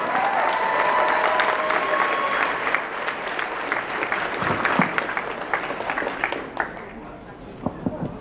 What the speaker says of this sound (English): give them a big round of applause, both teams